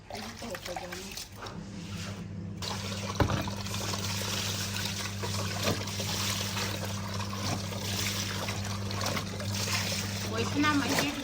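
Bedsheets are washed by hand with water, a continuous close trickling and splashing with a steady low hum beneath it.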